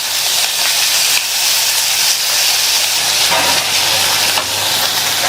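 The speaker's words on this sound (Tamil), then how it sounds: "1 நிமிஷம் போல வதக்கி விட்டுக்கங்க." Tomatoes sautéing in a pan for idly kurma, giving a loud, steady sizzling hiss that carries on without pause.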